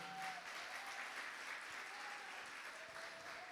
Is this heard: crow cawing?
no